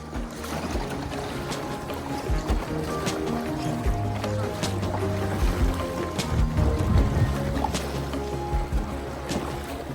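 Foot-paddled rowboat gliding along a river beside rice paddies and limestone rocks, with steady water lapping and paddle splashes beneath low engine-like rumble and a faint background voice.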